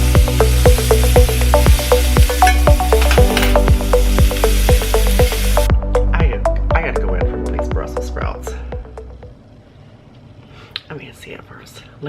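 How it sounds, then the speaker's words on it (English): Loud sizzling and crackling of meat frying in a hot pan, fading to a quieter sizzle, with background music at first. "my pan is nice and hot, so we're going to go ahead and add the steak in there"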